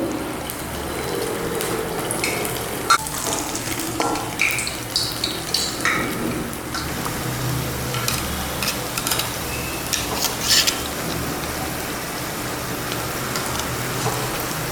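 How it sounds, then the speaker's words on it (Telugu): Urad dal garelu (vadas) sizzle and crackle in hot oil. The frying hiss is steady and close, with small pops scattered throughout. "చేతిని తడి చేసుకొని దీన్ని ఈ ఆయిల్లో నెమ్మదిగా వదలండి."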